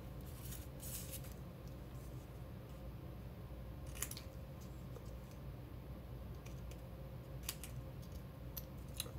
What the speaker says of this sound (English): I'm gonna go wild and crazy today and just use my scissors